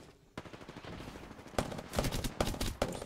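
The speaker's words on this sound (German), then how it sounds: "Ich schmeiß den Airstrike." An airstrike lands in the video game Apex Legends, heard as a run of sharp, booming impacts and gunfire-like bursts that grow denser and louder toward the end.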